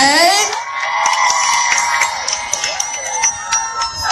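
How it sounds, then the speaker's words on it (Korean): An audience at a Daybreak live show cheers and screams in a sustained, high-pitched roar with scattered shouts, loud and close throughout. "환호가 조금 작은 것 같습니다."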